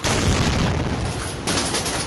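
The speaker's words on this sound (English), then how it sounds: "This is the moment the second of 2 car bomb explosions detonated at a Colombian military base in Cúcuta" A car bomb explodes at a Colombian military base in Cúcuta, a loud, sustained blast roar lasting about two seconds, with a second surge of rumbling near the end.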